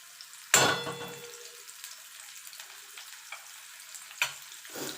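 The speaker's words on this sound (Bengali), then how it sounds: "পেঁয়াজটা লাল লাল করে ভেজে নেব" Onions drop into hot oil in a pan with a sharp hiss that quickly fades to a faint, soft crackle, and a second brief burst comes a few seconds later.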